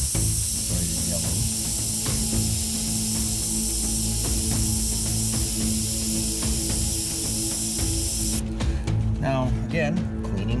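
An airbrush spraying bright yellow paint onto a 1978 Chevy van gives a loud, close, continuous hiss that cuts off near the end, leaving quieter background noise.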